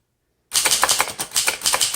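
Typing on a green and cream 1938 Remington Portable Deluxe typewriter begins after a brief silence, a fast run of sharp, close mechanical key strikes in an uneven rhythm.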